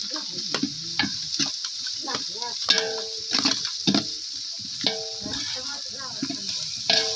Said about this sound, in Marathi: हे सुद्धा चांगलं मिश्रण असं हलवून घ्यायचं चांगलं भाजून घ्यायचं